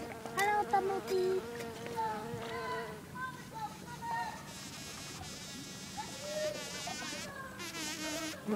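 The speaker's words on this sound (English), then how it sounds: "Hello, bumblebee." A bumblebee buzzes outdoors, its droning hum rising and fading as it moves about, heard under people chatting nearby.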